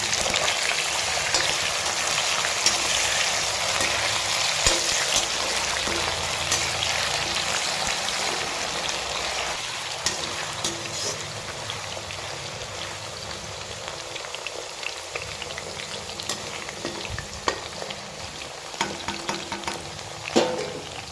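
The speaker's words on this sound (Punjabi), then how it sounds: "ਇਸੇ ਤੇਲ ਦੇ ਵਿੱਚ ਆਪਾਂ ਆਲੂਆਂ ਨੂੰ ਵੀ ਫਰਾਈ ਕਰ ਲਵਾਂਗੇ" Potatoes frying in oil for a brinjal masala dish, a steady dense crackling sizzle close by throughout, with occasional louder pops and light stirring clicks.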